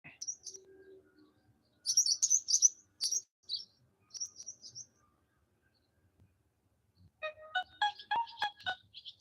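A phone ringtone made of bird chirps, bursts of high thin tweeting separated by silences, ending in a denser chirping trill, with no talking over it.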